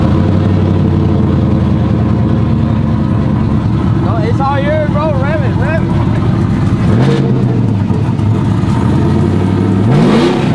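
A custom truck engine turns over and settles into a loud, rough idle, rising in a couple of revs as voices talk close by over the running motor.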